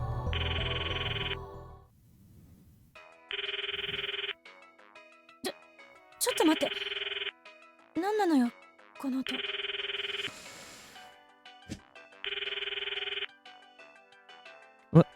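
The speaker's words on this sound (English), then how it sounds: "What is this sound? It sounds like Mayushi's cell phone. Her ringtone." A cell phone ringtone from the video game Steins;Gate repeats in short, evenly spaced bursts of a bright electronic melody, alternating with quiet gaps and a few brief blips and voice sounds.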